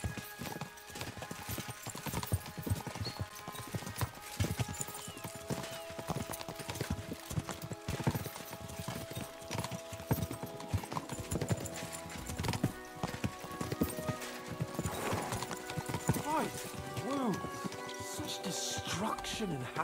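Horse hooves clip-clop at a steady gait in Kingdom Come: Deliverance II, with occasional whinnies, continuous and fairly close under game music and spoken dialogue.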